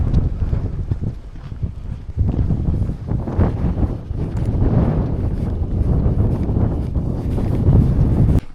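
Strong wind buffets the microphone on Hadrian's Wall near Birdoswald Roman Fort, a steady low roar and rumble with gusty swells that lasts the whole stretch, loud and close with no talking.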